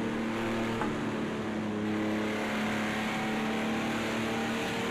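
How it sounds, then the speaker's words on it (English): A race car engine in the video game Project Cars 2 hums at a steady pitch, a sustained tonal drone with faint shifts, no talking over it. "the sound of that engine"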